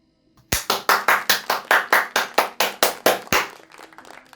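About fifteen sharp hand claps in a quick, even rhythm, close and loud, then they stop.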